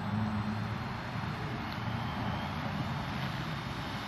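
A Walkera V370D05 2.4GHz radio-controlled helicopter whines steadily overhead, its motor and rotor buzz holding a constant, moderately distant drone throughout.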